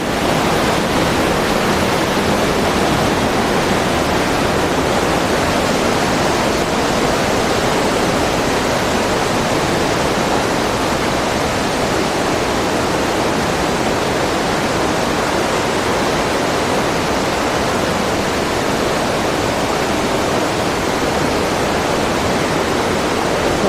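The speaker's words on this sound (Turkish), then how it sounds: "Her yerden su sesi geliyor." Loud, steady rushing of a waterfall in the Sapadere Canyon, a dense roar of water filling the whole clip without a break.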